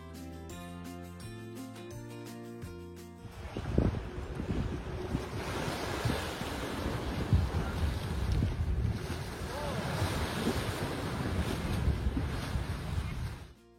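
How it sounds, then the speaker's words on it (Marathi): Lake water laps beside a walking track in Burlington, Ontario, a continuous wash of water with strong wind noise that follows a few seconds of music at the start. "चालत चालत या बाजूच्या पाण्याचा जो आवाज आपल्या कानावरती पडतो"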